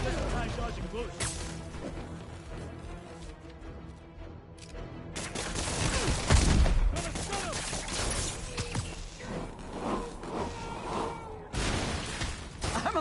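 Gunfire and combat in Marvel's Spider-Man, scattered shots and crashes amid a busy action mix with game character voices calling out over it.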